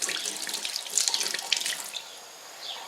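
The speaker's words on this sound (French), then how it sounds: "on va mettre un petit peu d'eau dans la douille" Tap water runs into a pastry piping tip, a close, hissing splash that flows steadily and then eases off near the end.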